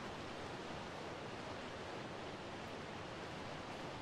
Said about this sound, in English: Oh, what am I hearing? Waterfall.